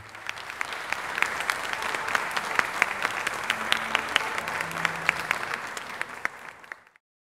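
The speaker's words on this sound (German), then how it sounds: "ihr klatscht es wieder durch eure Bildschirme hindurch" Sustained applause from an audience at a stage performance, steady dense clapping lasting about seven seconds before cutting off abruptly at the end.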